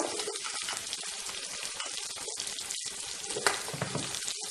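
Meat and onion fry in hot oil with a dense, continuous crackling sizzle, steady throughout with occasional small pops and stirring clicks.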